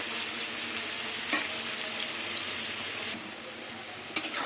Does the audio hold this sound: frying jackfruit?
yes